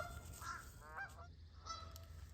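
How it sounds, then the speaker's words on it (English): Geese startled off a small island on a lake honk in several short, harsh calls from a distance, with quieter gaps between them over an open outdoor background. "We spooked a couple geese off the island"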